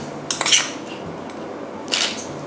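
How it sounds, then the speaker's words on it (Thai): A whisk beating a sugar mixture in a bowl for egg tart filling, heard as two brief bursts of clattering, scraping strokes against the bowl with quieter gaps between and no voices. "ตีให้เข้ากันนะครับ"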